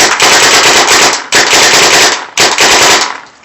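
Alpha Black paintball gun firing outdoors in three rapid bursts, loud, close and sharp with short pauses between volleys and no talking.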